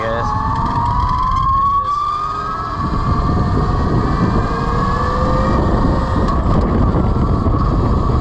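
Velimotors VMX12-F electric motorcycle ridden in third gear, its electric motor whine rising steadily in pitch over constant wind rush, with a voice talking over it throughout.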